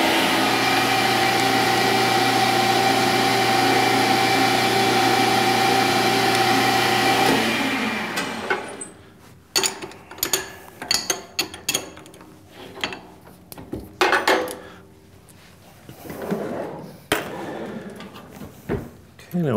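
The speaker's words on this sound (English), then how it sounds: "And we're gonna drill this one all the way through." A metal lathe runs at 720 RPM, drilling through a toolpost grinder wheel arbor: a steady loud machine drone for several seconds, then it stops. Intermittent clanks and scraping handling noises follow, close by.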